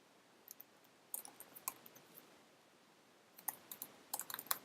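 Code goes in on a computer keyboard in scattered bursts of crisp, close clicks with quiet pauses between them, and no one talks.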